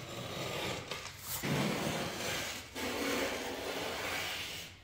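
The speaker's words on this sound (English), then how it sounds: "cut off any excess underlayment" Excess underlayment being cut away around the edge of a shed floor laid with LVP planks: a steady, close rasping scrape that runs almost continuously, with a couple of brief breaks and no voices.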